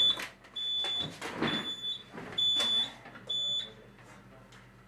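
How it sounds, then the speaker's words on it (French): A fire alarm sounds in a building used to train security agents, with repeated piercing high electronic beeps in short bursts between door and movement noises, moderately loud and with no speech. "Une alarme s'est déclenchée au PC sécurité."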